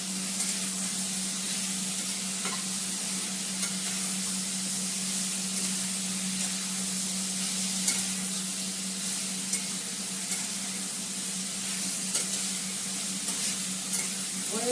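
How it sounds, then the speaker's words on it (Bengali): Three large split green chillies frying in a pan give a steady, even sizzle with soft crackles and occasional stirring scrapes, continuous and close with no talking. "কাঁচা লঙ্কা ফাটিয়ে দিয়ে দিচ্ছি, তিনটে বড় বড় কাঁচা লঙ্কা।"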